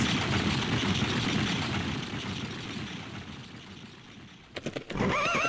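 Horses neighing in the video game The Legend of Dragoon, a loud rushing wash of game sound ending in a stuttering, shrill whinny near the end.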